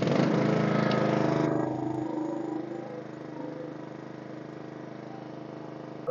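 A Honda small engine with a manual choke runs after a cold start, a steady close mechanical drone that drops to a quieter, lower idle partway through.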